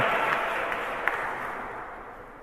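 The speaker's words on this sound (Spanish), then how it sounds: "Desen un aplauso" A congregation applauds during a Catholic mass in church: steady, dense clapping from many people at moderate volume, fading slightly toward the end.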